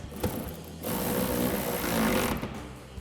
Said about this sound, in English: we can take our ratchet with our 14mm socket and tighten down our bolt down here